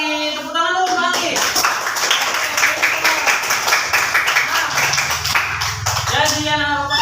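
Students in a classroom clap for a classmate, a dense burst of applause lasting several seconds, with a voice speaking just before and just after.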